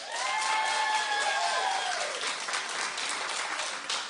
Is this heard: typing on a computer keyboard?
no